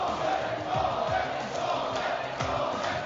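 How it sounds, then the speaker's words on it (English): Crowd of Totem fans cheering at the Brawl Stars 2024 World Finals esports event, a steady, loud roar of massed voices filling the arena throughout, with a few swells of louder shouting. "A lot of Totem fans looming around the crowd today, I will say, making so much noise for the veterans of Moye, Chaos, and Maru."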